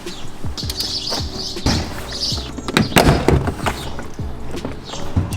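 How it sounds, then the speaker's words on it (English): A series of sharp plastic pops and clicks as a Jeep Wrangler JK door panel is pried loose with a pry tool, irregular snaps close by with light rattling between them. "we're gonna use this tool here to pop the door panel off"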